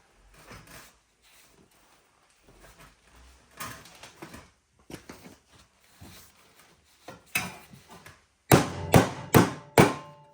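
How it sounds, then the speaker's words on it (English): Scattered taps and knocks build into a run of four sharp, loud metallic hammer blows near the end, bending sheet metal over wood on a 1974 Ford F250 truck. "then we'll do that again and just hammer it over"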